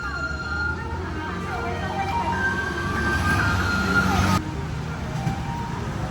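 A garbage truck collecting recyclable waste arrives in a residential street, its engine rumbling steadily and fairly near while a musical jingle or siren-like tone plays over it, cutting off abruptly partway through.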